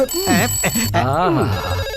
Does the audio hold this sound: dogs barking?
no